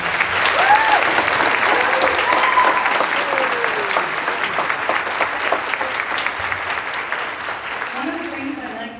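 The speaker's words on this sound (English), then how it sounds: "Can we have one more round of applause for the program?" An audience at an orchestra program gives a full round of applause, a loud, close, steady clatter of many hands that swells early and slowly tapers off toward the end.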